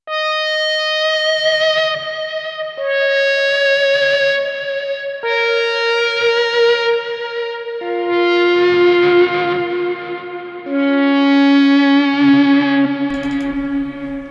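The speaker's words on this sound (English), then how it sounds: "we have these guitar swells that we kind of snuck in" Electric guitar swells drenched in reverb and delay, a slow sequence of faded-in sustained notes stepping downward in pitch, each blooming smoothly with shimmering echo tails, no voices.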